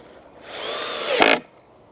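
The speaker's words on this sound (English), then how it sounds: "Just going to screw that middle one in." A power drill drives a screw into a wooden bench at an allotment, a brief rising whir that climbs in pitch and cuts off sharply after about a second.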